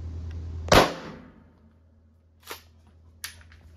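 A custom-built Tacpack gun fires one sharp, loud shot that decays quickly, followed by two fainter clicks or clacks, with no talking.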